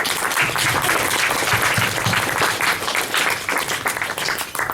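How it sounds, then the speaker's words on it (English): Classroom applause for a lecturer, a group of students clapping steadily at moderate volume with slightly uneven bursts throughout. "give Mr. Gaston a round of applause"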